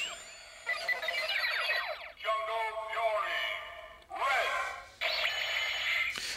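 Electronic tones and sweeping synthetic effects from a Power Rangers Megaforce Deluxe Gosei Morpher toy, several bright warbling bursts separated by short gaps, played close and loud.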